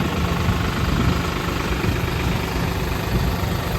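A tractor engine idles beside a maize field, a steady, throbbing low rumble with a faint knocking texture that stays loud and even throughout, with no voices.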